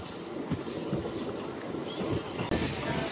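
A MEMU express train slows on its approach to Tettu railway station, a steady rumble of wheels with faint hissing and a sudden rise in noise near the end.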